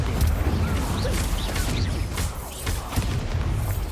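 An Incendio fire spell is cast repeatedly during a duel in the video game Hogwarts Legacy, giving a steady roaring, crackling blast with several sharp thuds and impacts layered through it and no voices.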